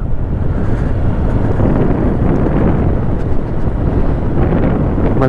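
Strong, cold wind buffets the microphone in San Mateo, Rizal, in a loud, continuous low roar that gusts slightly but never lets up.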